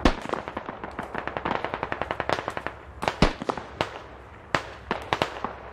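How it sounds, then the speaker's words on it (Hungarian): Rapid nearby gunfire in the Squad video game, with bursts of automatic fire followed by spaced, sharp single shots, loud and close with no talking. "itt közelben lövés, nagyjából a márkerben"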